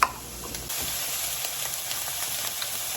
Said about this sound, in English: So I'm gonna cook the onion for about 5 minutes to soften it up.